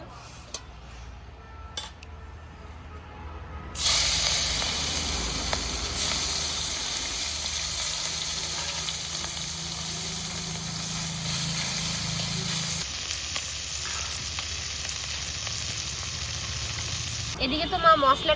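Oil heating in a kadai for frying fish, in a home kitchen preparing prawn paturi, bursts into a loud, continuous sizzle and crackle that holds steady for many seconds after a quiet start.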